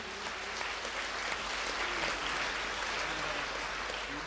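A worship service congregation claps together, a steady, even wash of many hands at moderate distance, continuous throughout without voices standing out.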